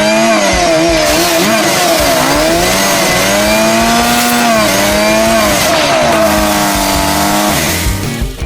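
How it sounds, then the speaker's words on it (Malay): A chainsaw motor screams loudly while cutting wood, its pitch rising and falling as it bogs down and revs, continuous for several seconds. "Jom kita gergaji kayu ni."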